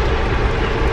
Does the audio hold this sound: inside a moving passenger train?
yes